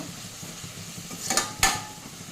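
A utensil stirs onions with salt in a pan: soft scraping and light sizzle, then two sharp metallic clinks against the pan near the end, close and fairly quiet.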